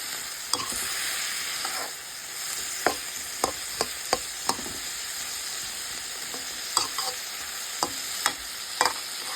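Cauliflower stir-fried in a pan, with a steady sizzle and hiss throughout and a series of sharp spatula scrapes and clanks against the pan at irregular intervals, close and moderately loud.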